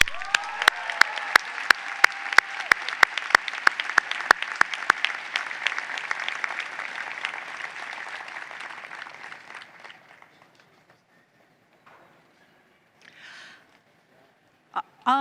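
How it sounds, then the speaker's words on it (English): An audience at a university honors convocation for graduating students applauds in a strong burst of clapping that gradually fades out, followed by brief faint sounds near the end. "Please join me in applauding the accomplishments of our 2019 Wolfson Scholar, Nicole Smolin."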